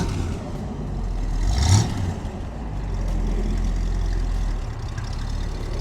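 A 1963 split-window Corvette with a 327 V8 pulls away, its engine a steady low drone that swells in a brief rev partway through and then settles back into an even pull, with no talking.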